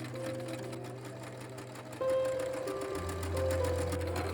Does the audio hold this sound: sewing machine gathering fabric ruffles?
yes